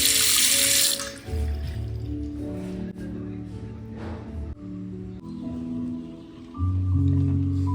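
Water runs from a tap at a washroom sink in an eco-friendly resort in Mudigere, Chikkamagaluru, as hands are washed; a loud initial gush settles into a steady splashing stream that rises again near the end.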